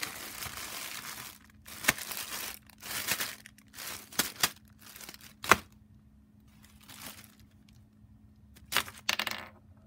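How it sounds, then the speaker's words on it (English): Plastic bags with headphones inside, crinkled and crushed as junk-drawer foley: separate bursts of close, crisp rustling broken by quiet pauses, with no talking. "I've got some plastic bags with some headphones in them."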